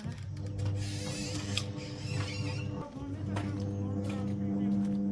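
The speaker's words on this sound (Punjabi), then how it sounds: "ਆਪਾਂ ਧਾਰ ਕੱਢਣ ਚੱਲੀਏ ਮਸ਼ੀਨ ਲਾ ਕੇ" A milking machine runs in a dairy shed, giving a steady mechanical hum and whir with creaking, clicking pulses layered on top, fairly close and continuous, with faint voices in the background.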